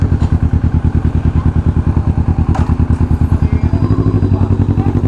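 A Kawasaki Vulcan S motorcycle on a road ride in Cavite, its engine thumping in a fast, even pulse throughout, loud and close with wind rush over it.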